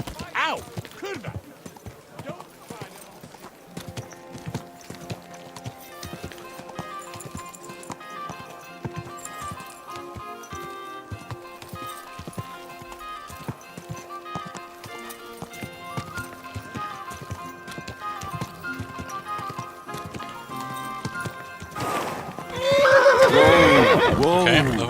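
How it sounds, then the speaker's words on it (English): In the video game Kingdom Come: Deliverance II, a horse whinnies and snorts while its hooves clip-clop in an uneven rhythm under a soft musical score, and someone talks over it; near the end a louder rush of noise swells in. "Okay, the horse was pissed and suddenly turned."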